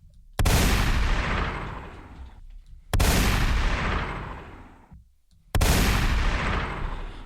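Three loud, booming gunshot sound effects fire at spaced intervals, each a sharp crack followed by a long, rumbling decay.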